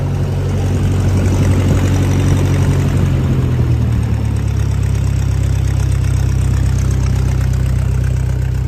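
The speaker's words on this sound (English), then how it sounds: "That's the little tractor just idling" A 1956 Massey Ferguson MH50 tractor engine idles steadily at close range, a low continuous rumble with a faint mechanical knock throughout.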